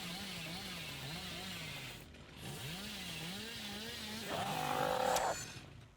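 A small two-stroke engine, ridden hard on a narrow trail and sounding chainsaw-like, revs up and down in rising and falling sweeps. A second engine note joins with a sharper, higher whine near the end.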